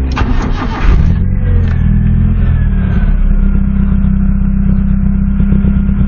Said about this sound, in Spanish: Lo acabo de arrancar y arrancó muy bien el carro otra vez.